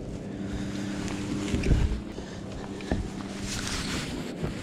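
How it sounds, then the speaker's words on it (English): Motorboat circling a lake, its engine a distant, steady drone mixed with wind noise outdoors near the water. "I don't know what in the world he's testing his boat for, unless he's trying to cross the Atlantic."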